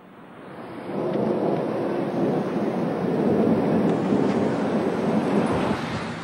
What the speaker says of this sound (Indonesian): Jelang pelaksanaan ibadah haji 2015, Kota Madinah diguyur hujan.